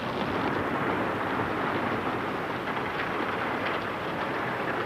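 Thunder from a lightning storm in a classic Laurel and Hardy comedy film soundtrack rolls as a low, continuous rumble throughout, with no voices over it.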